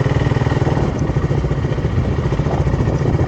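A motorcycle rumbles steadily at close range as it rides along a road in the Andaman Islands, its engine loud and continuous with no talk.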